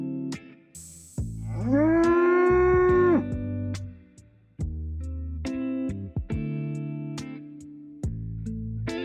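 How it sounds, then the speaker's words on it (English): A bull moos with a long, loud, low bellow that rises and holds, preceded by a short high squeal, alongside lower lowing calls and a steady bassy hum. "Bull."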